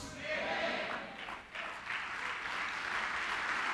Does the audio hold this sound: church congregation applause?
yes